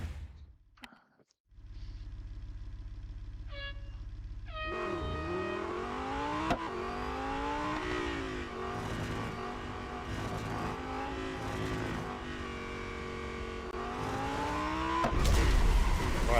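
Race car engines from the Real Racing 3 video game roar continuously, with rising and falling revs sweeping through gear changes and corners, loud and sustained without speech.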